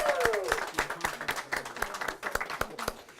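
An audience applauds a student team after a social studies scholars biathlon. Scattered individual claps sound close by, with a few faint voices mixed in under the clapping.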